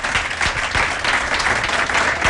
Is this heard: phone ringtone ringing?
no